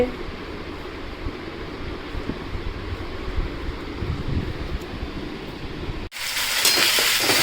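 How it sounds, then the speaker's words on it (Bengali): Onions frying in a pan with spices, a steady close sizzle running throughout that turns abruptly brighter and louder near the end as the spices go in. "আমি পেঁয়াজটা ভাজা হয়ে গেছে, মশলাটা দিয়ে দিলাম"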